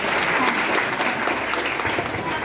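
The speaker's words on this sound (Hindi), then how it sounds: "इनके लिए जरूर तालियां बजाओ।" An audience at a question-and-answer session claps loudly for students, a dense continuous burst of applause filling the room for a couple of seconds.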